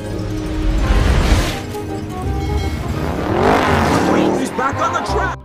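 Lightning McQueen race car toy or cartoon racer driving with squealing tires, a busy, loud engine and skid noise that swells twice with music-like layers beneath, no speech heard.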